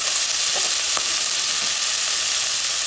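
Potatoes frying in a hot pan for a green beans and ham dish, a steady loud hiss of sizzling oil with a few soft stirring clicks, no talking.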